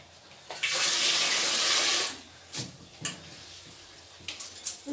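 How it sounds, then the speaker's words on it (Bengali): Rice being rinsed for pumpkin khichuri in a home kitchen: a steady rush of running water from a tap for about a second and a half, then softer scattered splashes and swishes as the grains are washed. "আর যে চাল ধুয়ে নিচ্ছি"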